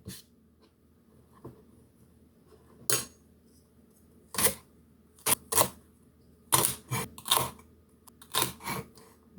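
A knife chopping greens such as nasturtiums and sorrel for kimchi, sharp crisp cuts against a board arriving in irregular single strokes and quick pairs, close and clear over a quiet background.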